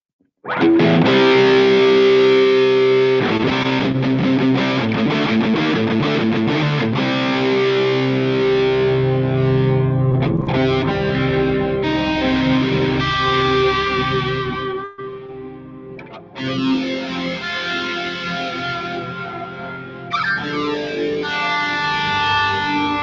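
Electric guitar played through a diatonic synth preset on a Line 6 Helix, giving loud, continuous distorted synth-like tones with layered harmonies and echoing chorus effects, with short dips in level before the playing resumes.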